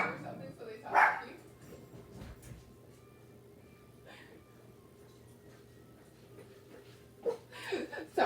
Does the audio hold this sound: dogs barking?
yes